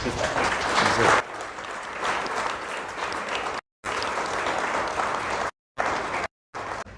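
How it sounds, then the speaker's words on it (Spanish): Applause from the audience at a book presentation: loud, dense clapping that fills most of the stretch, fading a little after the first second, with brief silent gaps near the end and no speech over it. "Démosle un aplauso a Hugo Villarreal esta noche."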